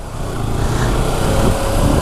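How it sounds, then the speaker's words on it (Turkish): A loud, raw Kawasaki Ninja 300 motorcycle engine with no exhaust silencer fitted runs steadily up close, its unmuffled roar constant throughout. "Egzozun susturucusunu takmamış."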